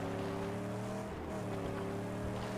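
Car engine driving steadily in the Mad Max video game, a continuous close drone with harmonic hum and no revving peaks, running throughout.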